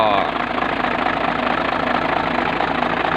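A long tractor-truck head sits idling, its engine giving a steady, loud, continuous rumble with a rough knocking texture, close by and alone.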